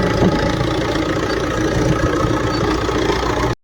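A tractor engine running in a village at night, a loud, steady low rumbling idle with a faint knocking texture, continuous until a sudden cut near the end.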